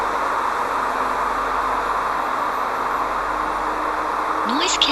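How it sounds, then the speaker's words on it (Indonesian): Steady roar of highway road traffic, a dense continuous broadband wash of passing vehicles held at an even level, with a faint higher-pitched tone creeping in near the end. "mari kita dengarkan kebisingan di jalan raya. Kira-kira seperti ini."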